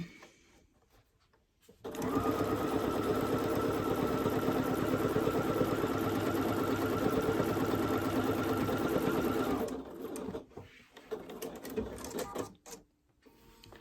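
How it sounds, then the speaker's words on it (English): A Bernina sewing machine sews a straight stitch with a quarter-inch foot, its needle chattering in a fast, even, close whir for about eight seconds, starting and stopping abruptly amid quiet handling sounds. "I'm just going to do the straight stitch to do my 1/4 inch foot"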